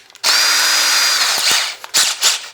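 A power drill with a countersink bit bores into planter box wood, a loud sustained whine with a steady motor tone for about a second, then short bursts as the trigger is pulsed.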